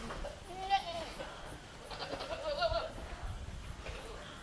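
Goats bleat faintly in the distance on a goat farm, with wavering cries over a noisy background of people talking.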